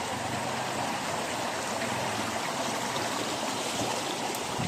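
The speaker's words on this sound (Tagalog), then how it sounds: "Mapaw na yung kanal, kaya doon sa ibabaw na si dumaan yung tubig." Steady rushing flash-flood water pours continuously over the top of an overflowing canal, a dense broadband flow, loud and unbroken throughout.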